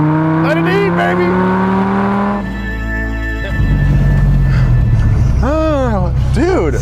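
A Dodge Viper engine roars loudly as it revs and accelerates hard, the pitch climbing and then dropping. Excited voices shout over the engine noise.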